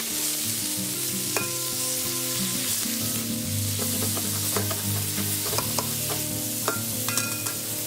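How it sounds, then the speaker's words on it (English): Cheesesteak meat frying on a griddle, sizzling steadily throughout with repeated scraping clicks of a spatula chopping and stirring it, close and alone without talk. "I'm not sure how well this spatula will cut the meat"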